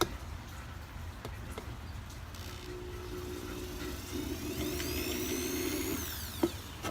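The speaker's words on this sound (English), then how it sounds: "So, let's drill a hole." A power drill whirs steadily for a few seconds at moderate volume while drilling a hole in a coffee can, then winds down, with faint clatter around it.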